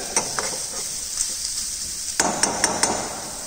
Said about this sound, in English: Chop onions and saute onions till it become light golden brown in color